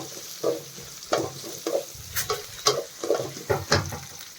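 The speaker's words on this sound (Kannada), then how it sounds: "ಈರುಳ್ಳಿನ ಹಾಕ್ಕೊಳ್ತಾ ಇದ್ದೀನಿ. ಆನಿಯನ್ನ ಒಂದು 2 ಮಿನಿಟ್ಸ್ 2 ನಿಮಿಷ ಫ್ರೈ ಮಾಡ್ಕೋಬೇಕು" Chopped onion fries in a pan with a close, steady sizzle, broken by uneven scraping strokes of a spatula as it is stirred, and no one speaks.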